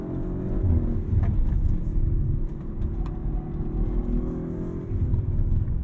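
A 2022 Audi RS5 Sportback's engine hums steadily under acceleration from inside the cabin, a loud, dense low rumble with slight rises in pitch and no talking over it.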